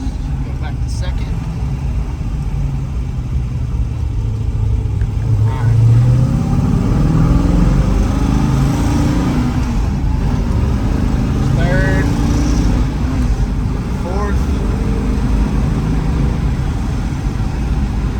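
A 1967 Shelby GT350 with a four-speed manual rumbles loudly while being driven, its engine note rising and dropping through gear changes, with someone talking over the steady low growl.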